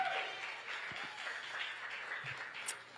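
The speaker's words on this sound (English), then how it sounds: "Another round of applause, y'all, for Reverend Jesse Jackson Sr." Audience applause at a Chicago book signing event, a steady wash of clapping at moderate distance, fairly quiet, with no voices over it.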